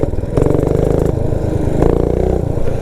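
A Motovox minibike with a Predator 212 engine with its governor removed revs loudly and close, a rough buzzing engine note that surges, settles briefly and climbs again.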